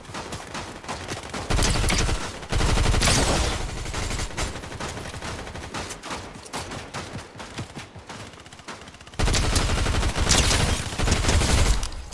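Dense bursts of automatic gunfire from the game Fortnite, loud rapid volleys in two heavy stretches separated by a lighter patter of shots, with no talking.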